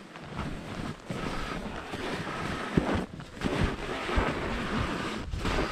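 Steady wind buffets the microphone high on the Whistler Peak ski slope, a continuous rushing roar with gusty surges and a few soft thumps, no voices over it.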